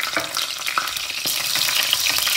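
Garlic frying in a pan for a Bengali-style fish curry, a loud, dense sizzle with a few sharp pops and light stirring.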